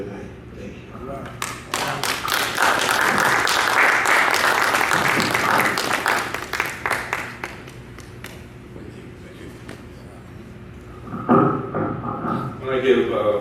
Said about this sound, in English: I'm going to give Brother Law another round of applause.